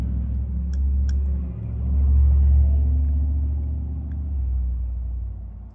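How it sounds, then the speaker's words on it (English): Steady low road rumble from passing traffic, swelling as a car goes by, then easing back to a continuous background drone. "Sorry about the road noise."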